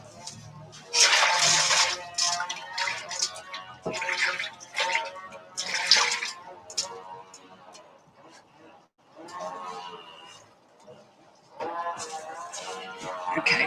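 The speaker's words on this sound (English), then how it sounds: "I'm going to wash my hands." Tap water runs and splashes as hands are washed in a kitchen while making an eel pie, the flow starting and stopping in bursts with occasional speech.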